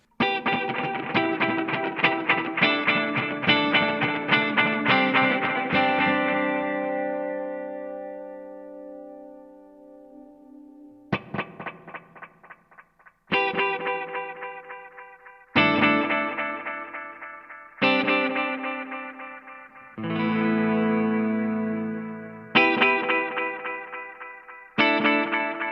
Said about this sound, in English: We'll use the slapback delay in the delay section and then the tape delay in the reverb section.